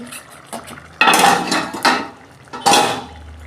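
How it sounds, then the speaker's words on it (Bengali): A metal lid comes off a pot of pumpkin chhakka with two loud clattering clanks of metal on metal, separated by softer rattles against a quiet kitchen background. "বন্ধুরা দেখুন আমি ঢাকনা খুলছি"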